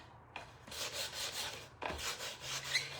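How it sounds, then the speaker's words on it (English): Steady rasping strokes of sandpaper scraping across wood edges, in two long bursts separated by a brief pause, close and fairly loud. "Again, we're sanding the edges."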